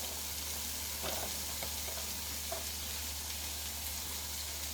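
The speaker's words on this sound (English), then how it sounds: "Now let these saute." Carrots sauteing in a Stirmax multicooker give off a steady, soft sizzle and fry hiss with a few light stirring scrapes, close and continuous, with no voices.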